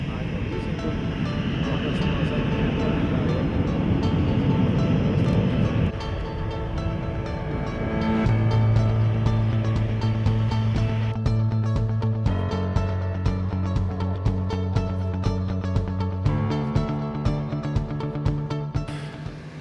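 A light aircraft's engine drones steadily in flight, its pitch shifting as it goes, with a voice talking at times over the noise.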